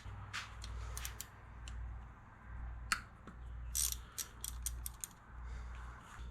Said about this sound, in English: Now we're gonna remove the tensioner cap there. Looks like a 10 millimeter.